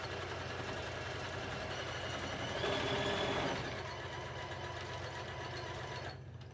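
A sewing machine runs steadily while stitching a quilt, a fairly quiet continuous mechanical whir with even rhythm that swells briefly in the middle before easing off near the end.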